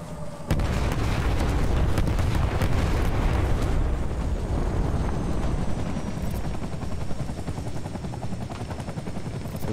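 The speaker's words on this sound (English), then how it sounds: "Where'd that chopper go?" A helicopter in the video game Death Stranding, a loud, heavy rotor rumble with rapid thumping that holds steady and then slowly fades.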